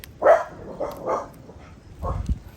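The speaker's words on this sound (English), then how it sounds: "Excuse the dogs." A few dog barks sound at moderate distance, spaced unevenly, with some low rumbling noise underneath near the end.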